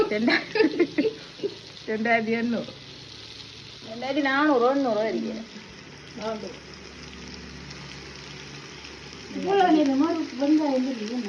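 Chopped onions fry in a pan for chicken biryani, releasing water as they cook. The sizzle continues steadily and close, while someone talks loudly over it in several bursts.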